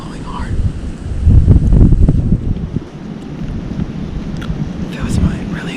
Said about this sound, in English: It's cold out, wind's blowing around 20 miles an hour.